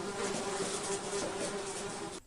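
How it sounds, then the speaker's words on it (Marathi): Flies humming in a continuous, steady drone with a faint tonal buzz, close and unbroken for the whole stretch before cutting off abruptly at the end. "Flies are humming."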